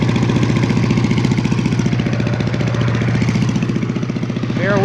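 A Simplicity 5-25 leaf vacuum shredder with a 5 hp, 206cc horizontal engine runs steadily at close range, its small-engine chug throbbing in an even, continuous rhythm.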